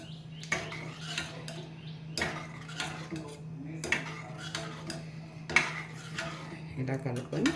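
A spoon stirs milk into ragi porridge in a glass, clinking against the sides in repeated metallic taps over a low steady hum, close and moderately loud.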